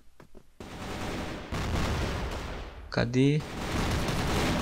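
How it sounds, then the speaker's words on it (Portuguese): AK-47 Super Dragon bursts on the Rocha map of a shooter game, sustained dense gunfire in loud stretches, with a brief spoken word near the start. "Atirei meu próprio companheiro"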